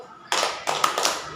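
Hand clapping in a rhythmic kindergarten clapping chant, a few bursts of claps at close range with no voices.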